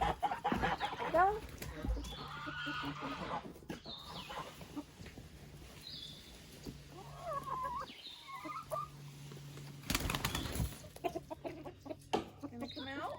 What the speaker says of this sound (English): go let the chickens out